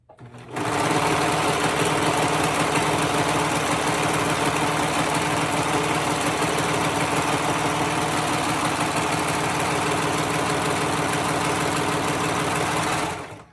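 A Brother 1034D serger loaded with gray thread stitches around fabric edges, a fast, steady, close mechanical whir with rapid rhythmic chatter running without a break and stopping at the end.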